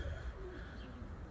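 Domestic pigeons coo low and soft from a backyard coop, a faint murmuring burble under steady background noise.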